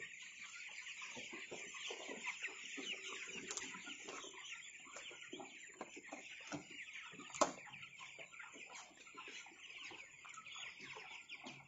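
Several 18-day-old broiler chickens cluck and chatter continuously nearby, a busy overlapping flock with one brief sharp knock partway through.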